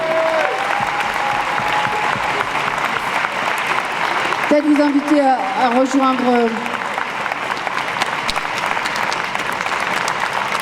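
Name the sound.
audience applause at political meeting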